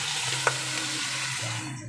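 Pork adobo hisses and sizzles steadily in a hot pan as boiling broth is poured in. A brief utensil clink stands out early against a continuous close, loud frying sound with no speech.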